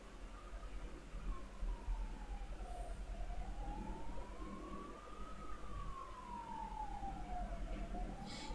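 An ambulance siren wails faintly in the distance, its pitch sliding slowly down, up and down again in long sweeps over a low background rumble.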